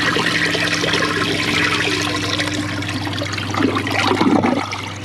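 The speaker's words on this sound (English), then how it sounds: "here's the flush with a close-up" A 2003 Crane Galaxy Elite toilet flushing up close: a loud, steady rush of water with a low hum underneath, swelling into a gurgling surge near the end as the bowl drains.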